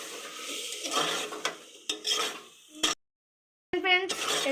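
A spoon stirs curd into a pot of rice for pulao, with close scraping and clinking against the pot that breaks off into a short silence before a brief final rasp of stirring.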